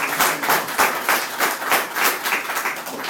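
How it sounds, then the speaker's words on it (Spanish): Audience applause at a talk on telecommunications reforms, steady dense clapping from a crowd filling the whole stretch with no voices on top. "aplaudemos, por favor."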